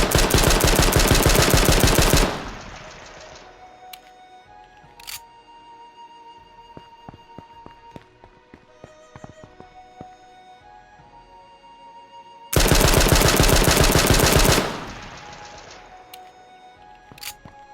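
Automatic weapon spray fire in the video game H1Z1, two long, dense, rapid bursts at start and end, loud and close, with scattered clicks and quieter mechanical sounds between them.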